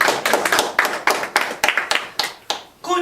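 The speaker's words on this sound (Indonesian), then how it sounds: "Tepuk tangan dulu buat Tuhan Yesus" A church congregation clapping hands for Jesus, loud and close in a quick, uneven rhythm of crisp claps that thins toward the end, with a brief voice at the close.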